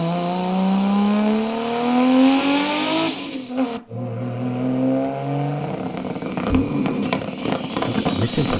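A Toyota Supra engine revving hard through rising gear pulls, loud and close, with a brief cut between shifts and a throaty roar that continues after, over faint background talk.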